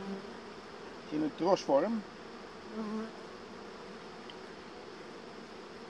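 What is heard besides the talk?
honeybees buzzing at a hive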